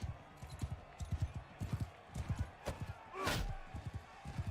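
A horse galloping in the Bannerlord video game, heard as fast, rhythmic hoofbeats at close range with a brief whoosh partway through and low talking underneath.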